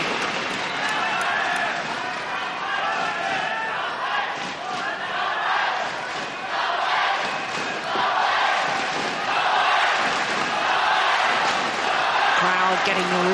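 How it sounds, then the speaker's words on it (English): A packed arena crowd roars and shouts continuously during the 2009 All England badminton men's singles final between Lin Dan and Lee Chong Wei, with a commentator talking over the steady din. "Crowd getting really involved in this men's singles final."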